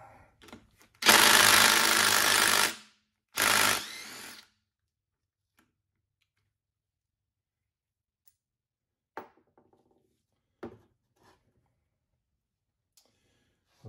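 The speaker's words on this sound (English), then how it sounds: "for now, we're going to take this bolt off. It's a 14 millimeter head on it." Two loud bursts of a power tool, probably an impact wrench, remove a 14 mm bolt from the engine of a Honda ATC90 ATV. The first burst runs about three seconds and a shorter one follows, then faint clicks and tool handling.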